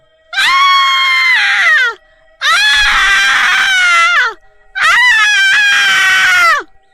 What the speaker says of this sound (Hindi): चुड़ैल जोरों से चिल्लाने लगती है